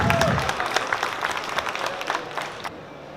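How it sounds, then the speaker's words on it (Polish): Audience clapping for three models at the Beauty Days 2018 beauty expo in Ptak EXPO, a dense burst of claps that gradually thins out, with some crowd noise around it. "So can I have a round of applause for my three models, please?"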